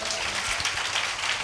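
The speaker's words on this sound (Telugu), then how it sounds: "అందరూ ఒకసారి గట్టిగా చప్పట్లు కొట్టండి" A church congregation at a Sunday service claps loudly together, producing a continuous broad wash of clapping across the whole moment.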